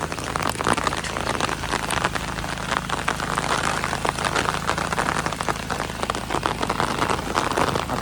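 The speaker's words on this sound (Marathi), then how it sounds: "पाऊस येलो बघा." Steady rain falls outdoors in rural Konkan at the start of the monsoon farming season, a dense, continuous hiss of drops striking surfaces at an even level across the whole stretch, with a faint low engine-like rumble beneath.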